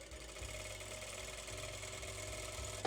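A sewing machine hums steadily at close range, stitching along a gathered line of a curtain being converted from ring-top to pole pocket, running continuously with slight changes in pace and no talking.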